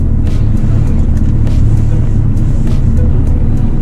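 A car engine idles roughly up close with the air conditioning running. Its deep, loud rumble stays steady, with a slightly uneven, lumpy pulse throughout.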